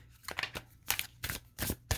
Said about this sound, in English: I do want you to see that I am shuffling